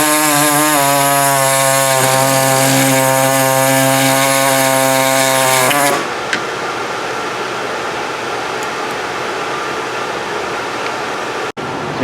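A power saw cuts through a car A/C line on a Chevy Venture, a loud steady whine with a stacked harmonic tone for about six seconds, then a rougher grinding noise as the cut continues.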